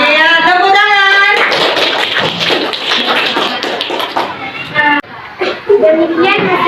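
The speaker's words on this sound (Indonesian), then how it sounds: "Iya, tepuk tangan." Students in a university teaching-practice classroom clap after a group presentation, a brisk burst of hand claps mixed with children's and young voices chattering throughout.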